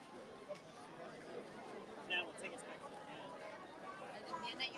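Crowd chatter at Disneyland near Pirates of the Caribbean, a steady low murmur of many distant voices with occasional louder nearby sounds.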